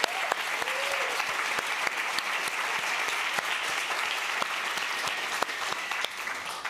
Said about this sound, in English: I wonder if we could all give a nice round of applause for all of those people